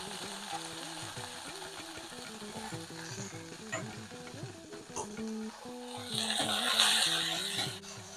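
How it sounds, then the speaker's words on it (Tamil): Okra and curry leaves sautéing in oil with turmeric in a pan, a dense close sizzle under a hum, with occasional stirring scrapes and a louder burst of frying near the end. "வெண்டைக்காய் ஒரு 2 நிமிஷம் வந்து எண்ணெயில் வதங்கட்டும்"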